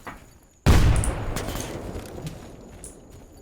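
Video game gunfire in Escape From Pripyat: a sudden loud blast sets off a booming, rumbling burst that tails off slowly, with a few sharper cracks and pops scattered through the decay.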